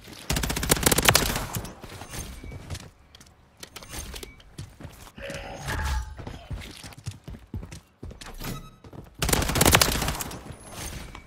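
Rival-9 gunfire while sprinting in the video game Call of Duty MW3: loud rapid bursts of automatic fire at the start and again near the end, with quieter in-game clatter and sounds between them.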